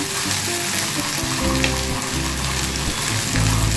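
Okra with green chilli frying in a pan, a loud dense sizzle with low rumbling stirring noises, continuous for a few seconds without any voices.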